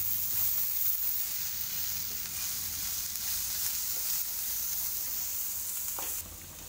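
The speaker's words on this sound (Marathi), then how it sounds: "हे सगळं परतून घेऊया आपण." Finely chopped cabbage and red capsicum sautéing in a pan, giving a steady close sizzle and hiss with light stirring throughout and no talk.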